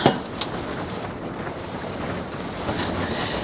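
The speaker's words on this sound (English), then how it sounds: "There's no stinking way I'd be setting up camp in this wind." Strong wind buffeting a campsite, a continuous rushing roar with microphone rumble and a couple of brief gust thumps, loud and unbroken throughout.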